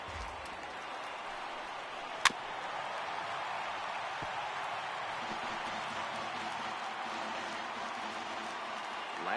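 Steady roar of a large stadium crowd of about 39,000 on their feet during a Giants versus Angels baseball game in MLB The Show 18, a sustained even wash of cheering with one sharp crack near the start.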